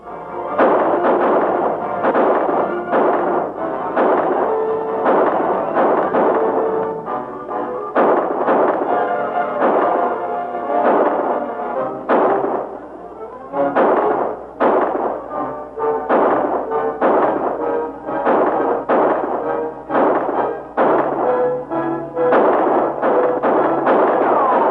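Gunfire from a shootout in the 1947 western Vigilantes of Boomtown: loud, repeated bangs and thuds in irregular bursts over a dense, continuous background, with no speech.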